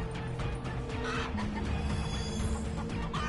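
Cartoonish chicken clucks from the Dead Ops Arcade video game, repeated over steady game music and effects, loud and close with no talking.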